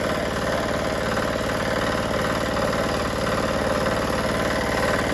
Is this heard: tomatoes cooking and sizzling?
no